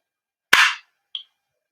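A WE 1911 Tactical airsoft gas blowback pistol fires one sharp, loud crack with a quick blowback snap, followed about half a second later by a faint, short metallic click, set against silence.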